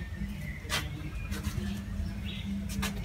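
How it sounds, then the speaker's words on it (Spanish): Small birds calling at the El Tazumal archaeological site in Chalchuapa, heard as a few faint, brief chirps scattered over a soft outdoor background, with no talking. "¿cuántos pajaritos andan allá?"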